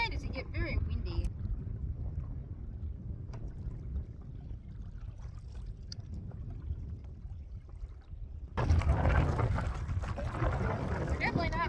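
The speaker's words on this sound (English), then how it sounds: "It decided to get very windy." Steady low rumble of wind buffeting the microphone on an open wilderness lake, turning into a louder, harsher gust near the end.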